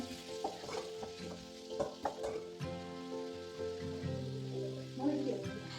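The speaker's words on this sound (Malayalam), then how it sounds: "മുട്ടക്കറിക്കുള്ള സവോളയൊക്കെ അരിഞ്ഞു വെച്ചിരുന്നു അപ്പോൾ അത് ആക്കുവാണ്" Chopped onions for an egg curry sauté in a pan, crackling and sizzling steadily while a utensil scrapes and stirs in uneven strokes, close up, with a voice murmuring faintly underneath at times.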